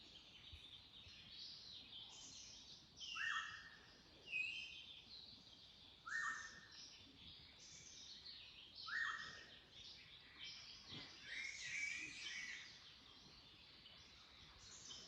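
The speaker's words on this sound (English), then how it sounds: "my bird alarm clock was right on time as usual" Birds sing at a campsite in the early morning, with repeated bright chirps and whistled phrases in short bursts every few seconds. The song is moderately distant and soft over a quiet background.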